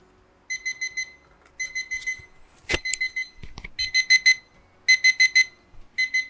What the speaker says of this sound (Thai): อันนี้คือเสียงปลุกของเขานะครับ